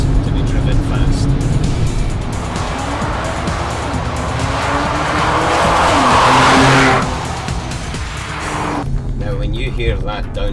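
A loud sports car roars close by, revs rising and falling through downshifts with tire squeal, and a voice speaks over the engine noise.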